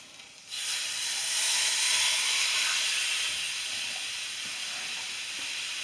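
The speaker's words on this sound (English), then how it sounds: "So now I'm going to toss this whole thing in the pan, and we're just going to let it cook" A whole seared corned beef round dropped into a hot pan sets off a loud, steady broadband sizzle that starts abruptly and holds on without voices.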